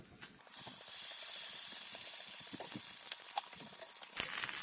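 Mashed potato tortilla toasting in a hot pan gives a steady, close hiss and crackle, with a few small scraping clicks and crinkles scattered over the sizzle.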